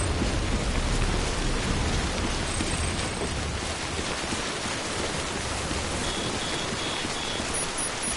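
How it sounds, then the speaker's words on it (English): Steady, heavy rain from the video game Death Stranding pours down as a dense, continuous hiss with low rumbling underneath, loud and unbroken across the whole stretch with no voices. "We've been getting near constant timefall in this region for a while now."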